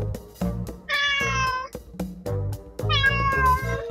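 A cat meows loudly and close, two long drawn-out cries separated by a pause, with thumping and rustling sounds underneath.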